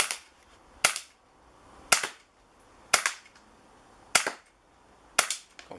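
An old-school Beretta CO2 BB pistol fires five sharp, loud shots at a steady pace of about one per second, each a crisp pop with a short decay into quiet.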